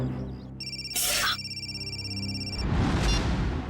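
A telephone ringing tone plays as steady electronic tones with a brief burst of noise partway, then gives way to a louder rumbling hiss.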